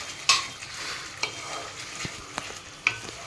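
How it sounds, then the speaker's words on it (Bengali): Bengali fish curry gravy with garam masala being stirred in a pan, a spoon scraping and clacking at an uneven pace over a steady low sizzle, close and fairly loud. "করে একটু ভালো করে নাড়িয়ে এবার আমি মাছটাকে দিয়ে দেবো।"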